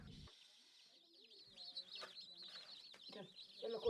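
Many chicks in a brooding house peep in a steady high chorus of overlapping chirps, with occasional nearby clucks and rustling and a faint voice underneath.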